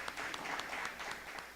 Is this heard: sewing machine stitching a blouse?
no